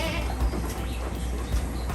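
Goats bleat on a goat farm in Westmoreland, Jamaica, two short calls standing out over a steady low background hum, with no talking.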